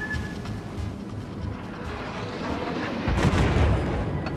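Incoming naval gunfire in the World of Warships video game: a low rumbling boom of shells landing swells near the end, over a steady background of ship engine and sea noise.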